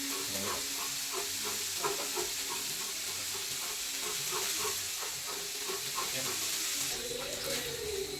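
Onions and tomatoes with ginger garlic paste frying in a pan, a steady close sizzle with occasional stirring scrapes throughout.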